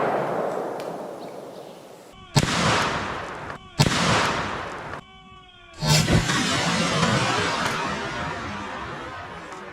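Rifle gunshots outdoors in open country, with two sharp, loud shots a couple of seconds apart and a third blast later, each followed by a long rolling echo.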